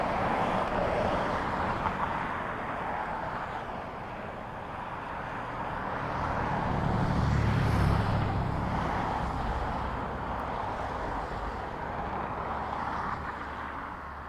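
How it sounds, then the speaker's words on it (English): A Ryanair Boeing 737 MAX 8 arriving from Malaga comes in to land on runway 28L at Dublin Airport, its broad jet roar swelling toward the middle and then easing, with some wind buffeting the microphone. "Ryanair from Malaga next on a Max 8."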